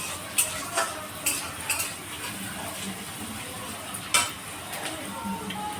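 Spices lightly frying in a pan on a home stove, a faint steady sizzle broken by a few sharp clinks and scrapes of a spoon stirring against metal.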